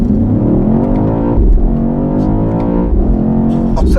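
A BMW XM V8 with its exhaust valves open gives a deep, rumbling rev that swells and eases in steady surges. It stays loud and close throughout, with no talking.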